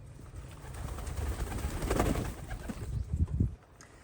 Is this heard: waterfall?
no